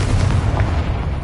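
A Confringo blasting curse in the Hogwarts Legacy video game erupts as a loud, sustained low rumbling explosion, dense and booming throughout, with a brief brighter crackle partway through.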